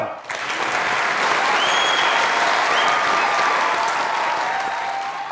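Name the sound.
audience applause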